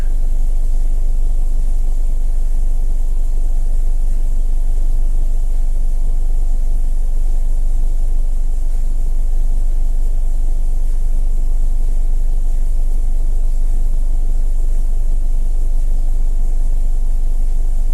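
A 2009 Subaru Forester engine idles steadily and continuously, a low constant rumble close by with no talking, with its check engine light on.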